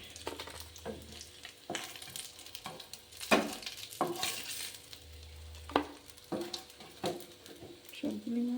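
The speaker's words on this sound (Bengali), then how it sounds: "এবার আমি একই তেলে ক্যাপসিকামগুলো ভেজে নিচ্ছি" Capsicum frying in oil already used for fish sizzles steadily while a utensil scrapes and stirs the pan in repeated sharp strokes, close and fairly loud.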